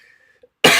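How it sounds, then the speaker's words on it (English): A single sharp, loud cough bursts in close to the microphone after near silence. "I'm about to cough, so hopefully I don't"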